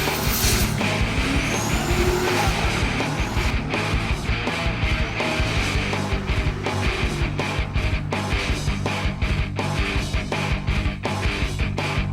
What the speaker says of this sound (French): une voiture de drift s'exerçait sur la piste ovale